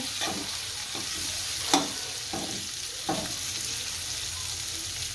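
Stuffed okra frying in oil over a low flame, a steady sizzle with a few clattering stirs of a spoon or spatula against the pan, close and moderately loud with no talking.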